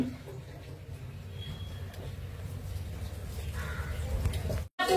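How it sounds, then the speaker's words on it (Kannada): Crows caw repeatedly over a steady rumble of background noise outdoors near a home in the early morning, moderately loud and without talk, ending in a brief cut in the sound. "ಪಕ್ಷಿ ನೋಡ್ರಿ ಪಕ್ಷಿ ಅಂತ ತರಕತ್ತಾವ"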